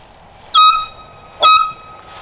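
Two short loud air horn blasts on a disc golf course, spaced about a second apart, each a sharp bright honk over faint outdoor background.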